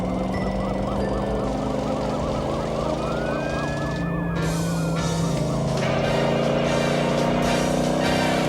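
A police siren wails in rising and falling cycles over a loud, steady engine drone, nearby and continuous.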